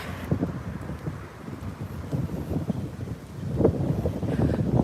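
Strong wind gusts outdoors on a cold, snowy evening walk, roaring steadily against the microphone and building louder toward the end, with no talking.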